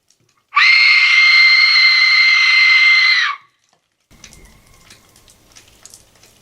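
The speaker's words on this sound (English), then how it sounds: "I'm gonna be using this Aztec death whistle to try to summon something" An Aztec death whistle blown: a piercing, shrill scream-like blast holds steady for about three seconds and cuts off. Faint rustling and scattered small noises follow.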